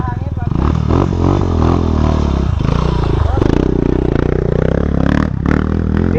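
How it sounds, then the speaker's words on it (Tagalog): A motorcycle climbs a rough dirt trail, its engine droning loud and steady at close range. People talk excitedly over it throughout. "Tinahon na ni Jules, puta bayabas na, umahon na ng motor."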